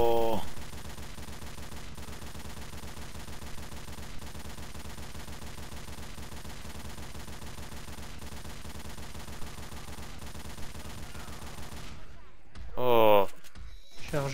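Mounted machine gun firing steadily in Left 4 Dead 2, a dense continuous rattle running for about twelve seconds before cutting out into brief sharp game noises, with voices talking over the action.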